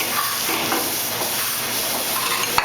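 Almonds sizzle and hiss while being tossed and toasted in a hot pan, a steady close frying crackle with no voices.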